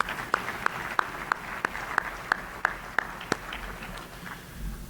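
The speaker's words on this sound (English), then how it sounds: "Can we give them a big round of applause" Applause at a Chamber of Commerce monthly luncheon, with a few near, sharp, evenly spaced claps standing out over a light bed of clapping from a modest crowd, thinning out in the final second.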